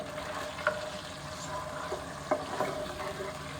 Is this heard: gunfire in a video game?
no